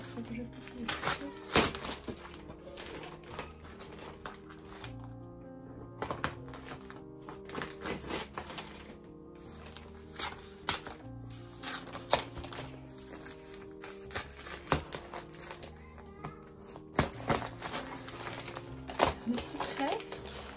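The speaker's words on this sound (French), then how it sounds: "il faut que je coupe les tissus" Fabric being cut, heard as sharp scissor snips and taps scattered irregularly over a quiet room, with soft handling rustles between them and someone talking in French at times.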